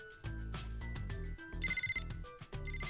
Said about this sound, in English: Quick pause with that ringtone.